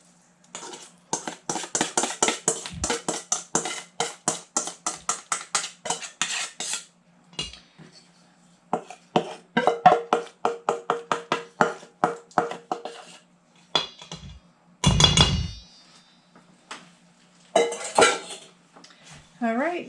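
Pumpkin bar batter being whisked in a bowl, a fast steady clatter of a utensil against the bowl in long runs broken by pauses, close and clear, with a couple of brief knocks near the end.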